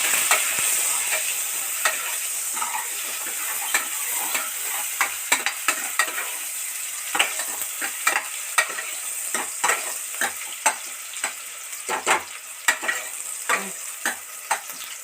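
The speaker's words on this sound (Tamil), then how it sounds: "நெக்ஸ்ட்டு ஆனியன், சின்ன வெங்காயம், பெரிய வெங்காயம் இன்னும் நல்லா கோல்டன் ஃப்ரை ஆகிற அளவுக்கு நல்லா நம்ம வதக்கணும்." Small and large onions sauté in oil for a mutton gravy, a steady sizzle under repeated stirring, with a spoon scraping and clacking against the pan in irregular bursts throughout.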